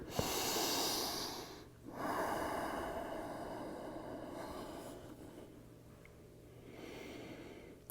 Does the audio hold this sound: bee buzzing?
no